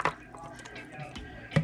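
Beef, carrots and pumpkin poured into a pot of Jamaican red peas soup: a couple of wet splashing plops at the start and end, with softer drips and squishes between.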